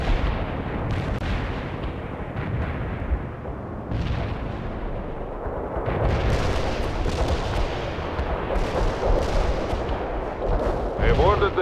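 Heavy artillery barrage in the Soviet assault of the strategy game World in Conflict, with continuous rumbling blasts and cracking impacts layered densely and loudly, swelling in waves throughout.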